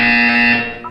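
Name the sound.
buzzer in Portal 2 video game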